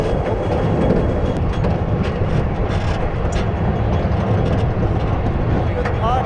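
B&M roller coaster train at Walygator Grand Est climbing the lift hill, a loud continuous rumble and rattle with clicking, steady and close throughout.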